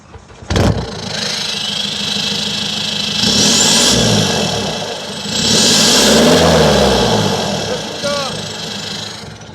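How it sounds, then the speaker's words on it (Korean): A Hyundai Accent 1.6 diesel with a tuned exhaust revs up twice in long rising surges, close and loud, with a sharp knock at the start and a faint voice near the end. "자, 배음 한번 좀 찍어봐야죠. 배기음이요?"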